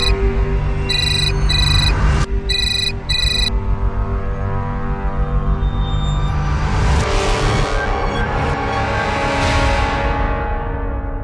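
A phone ringtone repeats in bursts and keeps ringing without being picked up, loud and steady over a humming background.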